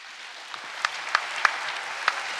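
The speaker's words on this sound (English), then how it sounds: "Let's give the 4 presenters another round of applause." Scattered applause for four presenters at an international youth peace conference, a thin spread of clapping with a few sharper individual claps standing out, fairly faint and steady across the moment.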